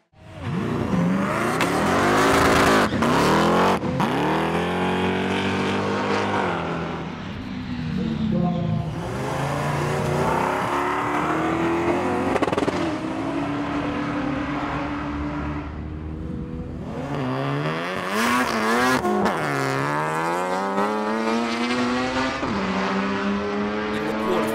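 Nissan R32 GT-R cars racing at a Power Cruise event: loud engines rev hard, climbing and dropping through repeated gear changes with passes and surges, sustained throughout and close to the listener.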